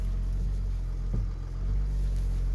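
Engine of a Jeep WK CRD idles with a steady low drone while the power steering pump, still holding some air, whines and groans briefly as the wheel is turned, heard up close.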